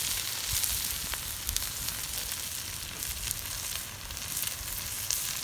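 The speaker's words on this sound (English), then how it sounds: "The fajitas are cooking now. We've got the meat on the grill" Steady, close sizzling of fajita meat frying on a hot grill outdoors, a constant crackling hiss with occasional louder pops.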